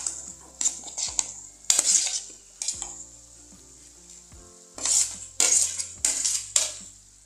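Fried brinjal and potato pieces tipped into a pan of hot oil with turmeric and salt, loud bursts of sizzling alongside clanking of a spoon and metal pan, several separate splashes and scrapes.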